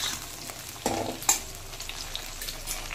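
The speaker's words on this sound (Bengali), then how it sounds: "একটু কিছুক্ষণের জন্য ভেজে নিতে হবে।" Vegetables frying in a pan, giving a moderate sizzle broken by two sharp bursts where the pieces are stirred or tossed.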